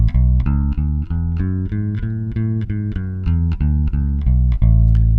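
A guitar plays a plain scale, one clear note at a time at a steady even pace, bright and close with a distorted or effects-laden tone and no talking.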